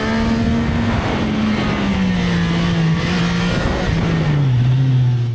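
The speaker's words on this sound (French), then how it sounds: "À haut régime, elle jappe, elle tire, elle déborde de caractère mécanique." A CFMoto 675NK motorcycle engine revving hard at high rpm, a loud, close, continuous snarling drone whose pitch sags slightly and then settles lower near the end, with no voices.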